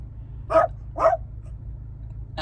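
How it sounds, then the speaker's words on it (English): A dog barks twice in quick succession, close and clear, followed by a third bark starting just as the sound ends, over a low steady background hum. "What are you barking at, dude?"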